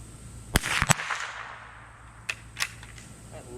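A single handgun shot cracks sharply in a backyard, followed by a second nearby report and a few fainter clicks and handling sounds, with brief distant echoes trailing off.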